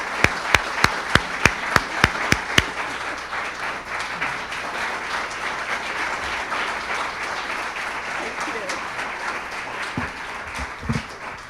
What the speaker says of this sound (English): I love that I got applause before I even did anything